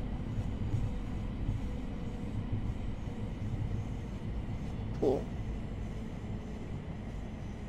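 A Class 700 electric train runs in Train Sim World 4, giving a continuous low rumble at a moderate level. A single brief click or thump cuts through the steady hum partway through.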